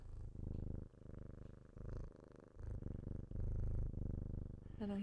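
A cat purrs close up in rhythmic rumbling bursts with brief pauses between breaths, steady and fairly soft.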